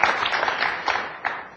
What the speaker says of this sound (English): Couldn't hear you over the clapping